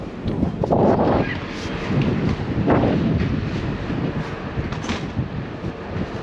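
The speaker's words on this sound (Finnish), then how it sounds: "Täällä vähän tuulee kyllä." Gusty wind buffeting the microphone in heavy low rumbles on the open top deck of the cruise ferry Silja Serenade, rising and falling in bursts, with faint voices under the noise.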